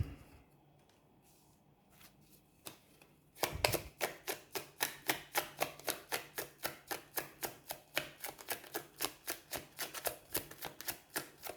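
Tarot cards are shuffled in a fast, even rhythm of papery slaps, starting after a quiet stretch and continuing steadily to the end.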